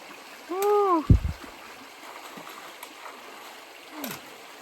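A cold river rushes past at a trail crossing on the International Appalachian Trail in Canada, a steady, close water noise with a brief vocal sound and a thump near the start.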